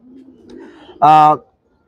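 A champion racing pigeon from a Narayanganj tournament gives one loud, close, tonal coo lasting about half a second, preceded by faint low murmuring and followed by silence.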